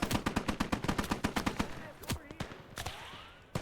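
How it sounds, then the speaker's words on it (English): MG42 machine gun fire in the World War II game Gates of Hell: Ostfront, a fast, steady string of sharp shots that then breaks into a few scattered single cracks. "he's got a guy with a MG42 just positioned down the road that's just shredding us"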